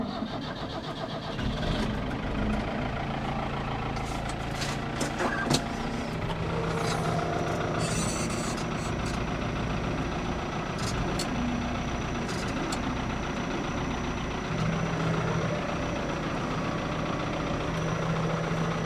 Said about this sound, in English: And now we'll move the tractor.